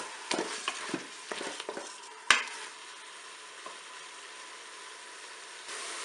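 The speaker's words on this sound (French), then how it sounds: "Je vais mettre maintenant mon filet mignon. Je vais faire revenir aussi." Filet mignon browning in a Cookeo multicooker: a faint, low sizzle under several sharp clicks and knocks as the meat is placed and moved, then a quiet steady hiss.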